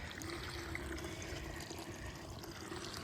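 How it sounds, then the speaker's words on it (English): Water slowly draining from a sink that seems clogged, a steady low trickling gurgle that runs continuously and fairly quietly throughout. "It's draining more like that."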